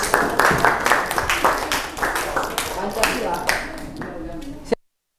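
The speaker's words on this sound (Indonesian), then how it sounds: "Untuk kelompok 2, beri aplaus." Classroom audience applauding a student group, a dense wash of many hands clapping steadily for about five seconds before stopping abruptly.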